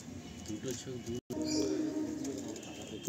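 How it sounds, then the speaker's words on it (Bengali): Najra Kaldam pigeons cooing in a loft, soft low repeated coos close by with a voice talking over them throughout. "খুব সুন্দর পায়রা"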